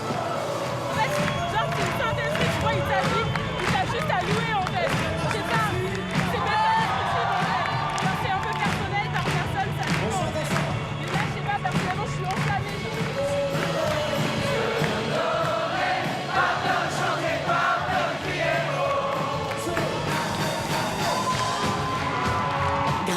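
A crowd cheering and calling out at an evangelical worship service, dense and continuous over music, with busy voices and occasional whoops throughout.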